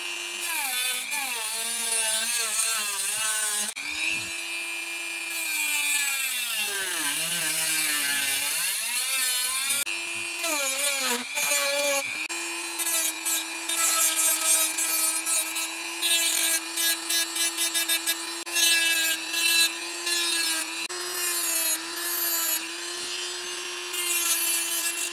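Trimming a silver instrument cluster surround bezel for a Mercedes-Benz W203, with steady close rubbing and sawing-like scraping over a constant tonal hum, busier and more broken toward the end.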